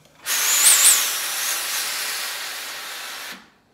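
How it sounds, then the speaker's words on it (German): Steam hisses steadily out of a steam ironing station, a broad bright rush that swells at the start and then holds evenly for about three seconds before cutting off, close and alone. "wunderschönen Wasserdampf, der jetzt rauskommt aus der Dampfbügelstation"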